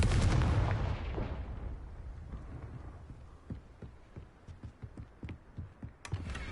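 A Confringo fire blast spell from the video game Hogwarts Legacy opens with a loud, booming burst that fades into a rumbling tail, and a string of softer thuds and crackles follows.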